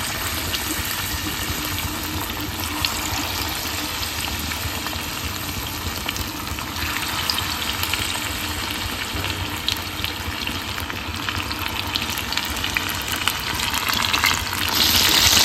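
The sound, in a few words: Bombay duck (bombil) fish frying in hot oil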